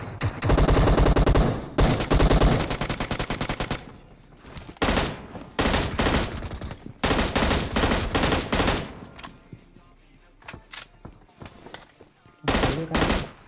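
Gunfire in the mobile battle-royale game PUBG Mobile: a long loud burst of automatic fire, then repeated short bursts and single shots at irregular intervals, with a voice talking between them.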